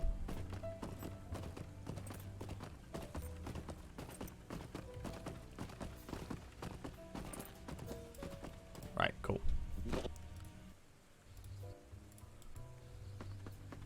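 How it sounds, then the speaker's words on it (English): In Lord of the Rings Online, a riding goat mount trots with rapid rhythmic hoof clip-clops over game music. A brief whinny-like call sounds near the middle, and someone talks over it. "I don't know why I'm still on my goat."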